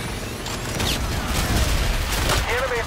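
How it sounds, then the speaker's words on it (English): Enemy bombardment explosions and gunfire in the video game Call of Duty Infinite Warfare, with dense, continuous booms and rattling blasts. "Enemy bombardment incoming!"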